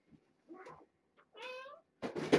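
Several short, high meows from kittens, spaced apart, with a louder, rougher cry at the end, close by and without talk.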